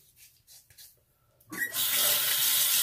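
After a few quiet knocks and small handling sounds, a tap opens and water rushes steadily and loudly into a sink or lather bowl while shaving soap is being prepared.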